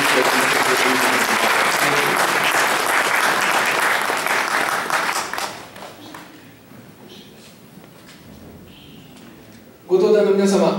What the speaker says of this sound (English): please give them all a round of applause for all the great work they